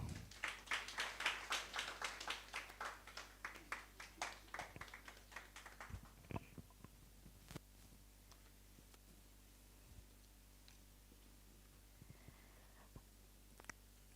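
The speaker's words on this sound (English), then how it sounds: "Let's keep clapping for her" Audience applause at a Class of 2024 environmental health induction ceremony greets the valedictory speaker, dense and loud for about six seconds before thinning to a few scattered claps over a quiet hall.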